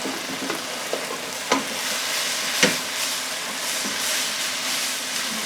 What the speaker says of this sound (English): it's the meat that's frying rather than the water that's bubbling